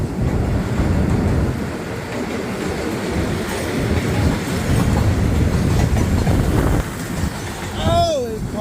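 A freight container train crossing a bridge at night, loud rolling rumble and clickety-clack of the wagons throughout, ending with a brief high wheel squeal, while someone talks over it.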